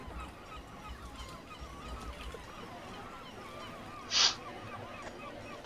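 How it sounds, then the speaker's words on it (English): A single loud gull cry rises sharply out of a quiet ambient background, then fades. "Seagulls are real loud today."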